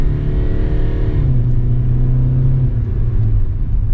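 A Kia Seltos diesel engine accelerates hard under full throttle, a loud, steady droning rumble whose pitch shifts as revs build, heard close up with no talking.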